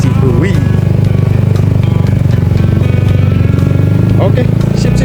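A Yamaha Mio Sporty scooter runs loud and close while being ridden, its small engine buzzing steadily. A rider talks over the constant drone.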